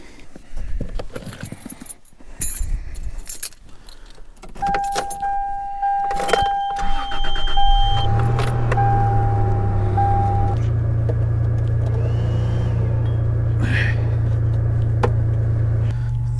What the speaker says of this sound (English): I'm just gonna fire up the truck.